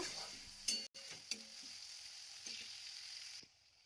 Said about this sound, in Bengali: এখন কুচো করা পেঁয়াজটা আমি এর মধ্যে দিয়ে দিলাম। আর পেঁয়াজটা একটু নরম হওয়া পর্যন্ত আমি এটা ভাজা করে নেব।